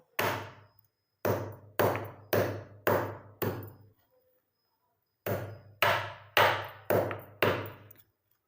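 Ingredients for a natural hair dye are pounded in a mortar, sharp thudding strikes in two rhythmic runs of about six blows each, separated by a short pause, close and clear with no voices.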